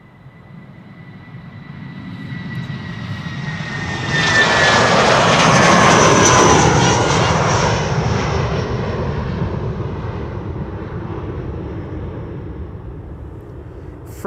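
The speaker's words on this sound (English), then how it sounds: "BA flight 435 to London Heathrow, A319." British Airways Airbus A319 taking off from Amsterdam Schiphol, its jet engine roar rising from a distant rumble to a loud, broad peak as it passes, then slowly fading, with a high whine audible early on.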